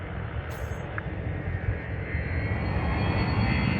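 Spaceship engine throttling up in the space game Elite Dangerous near a megaship, a loud continuous jet-like roar that swells gradually, with a brief high chime near the start.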